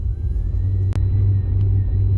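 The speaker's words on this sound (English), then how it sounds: "we are idling into town because we have no control over this car" A Corvette idles on a snowy road during a snowstorm, a steady low engine rumble with a constant hum, close and alone, broken by one brief click.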